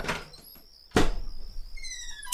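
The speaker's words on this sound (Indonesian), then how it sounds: "Begitu pintu rumah dibuka," A house door is unlocked with a spare key and swung open: one sharp clack of the latch and a thud, followed by a faint creaky hiss and a brief bright rattle at the end, with no talking.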